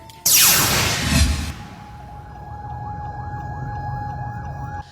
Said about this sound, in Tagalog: Sunod-sunod ang pagpangabot sa mga fire truck gikan sa nagkadiyang mga fire station